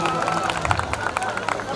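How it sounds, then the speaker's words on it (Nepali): Applause from a crowd at a college golden jubilee festival, scattered claps mixed with crowd babble and voices, moderately loud and fairly close. "देवजानी को मैं और जोरदार ताली दे जाओ"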